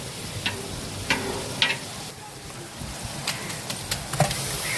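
A huge batch of ginger garlic paste, two jugs' worth for fifty kilos of food, sizzles steadily in a large cooking pot, with scattered scraping and clinking of a ladle being stirred through it, no talking.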